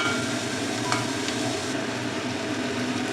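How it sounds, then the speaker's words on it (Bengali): Radish and chicken pieces fry in a pan, a continuous moderate sizzle with occasional light stirring clicks, no voices. "এবার আমি এটাকে ভাজতে থাকবো, লাল না হওয়া পর্যন্ত আমি ভাজতে থাকবো।"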